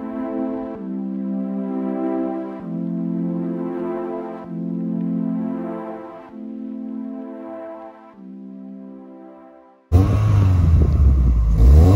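A Peugeot 206 GT engine warming up and revving, its steady harmonic drone rising and falling through several throttle blips before a sudden loud, rough rev near the end, close and alone.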